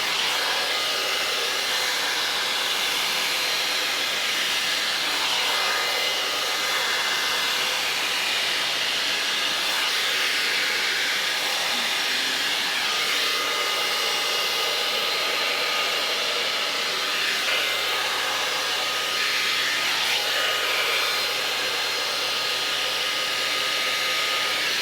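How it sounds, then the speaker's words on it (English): A hair dryer runs on its highest heat and speed setting with a round brush attachment, a loud, steady, close-up roaring hiss lasting throughout with no talking. "let me start blowing up my hair. I use this in the highest heat setting and the highest speed."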